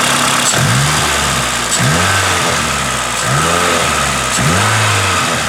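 A Toyota Corolla XRS 2ZZ engine with its Injen intake removed revs repeatedly, rising and falling in several short pulls, loud and close, with a steady idle rumble between.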